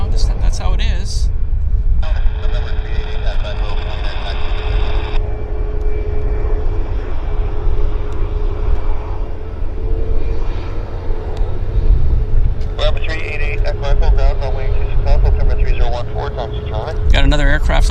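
Delta SkyWest Embraer airliner on approach near Vancouver airport, a steady jet engine roar holding through the whole stretch with a faint whine, while someone talks over it and birds chirp at times.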